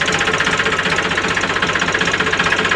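A tractor engine runs at close range with a loud, steady, rapid knocking chug, keeping an even rhythm throughout.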